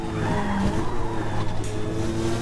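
A Mazda RX-7 drifting in Forza Motorsport, its tires squealing steadily under a loud engine drone with wavering pitch, close and continuous.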